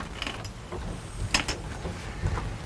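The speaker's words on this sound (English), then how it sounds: "You just pop this latch open. It comes right off of the hook here." A metal latch on a Taxa Cricket travel trailer pops open with a sharp click amid softer rattling and creaking hardware, close and fairly quiet, with a second faint clack shortly after.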